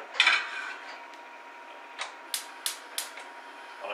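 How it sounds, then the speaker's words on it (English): A metal pan of hot water set onto a kitchen hob lands with a clattering clank, followed by a few sharp, light metallic taps and clicks at close range in a quiet room. "I'm just going to go pop this on the hob"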